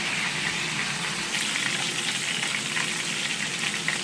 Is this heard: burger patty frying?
yes